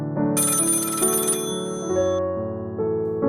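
A telephone rings at night with a steady, continuous electronic-sounding ring tone that changes pitch in steps, loud and close with no voices.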